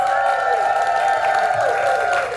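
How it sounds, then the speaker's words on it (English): An audience at a Marshalls community event claps and whoops to welcome a guest speaker on stage, the sustained cheering voices riding over a wash of applause. "please join me in a round of applause to welcome Zerina Akers"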